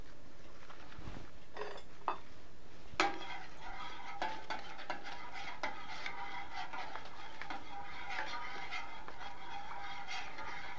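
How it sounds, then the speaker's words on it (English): Pectin being stirred into hot blackberry juice in a pan: soft utensil scrapes and light clinks against the pan, close but quiet, with a gentle liquid swish and no talking. "Stir in 1 packet of pectin."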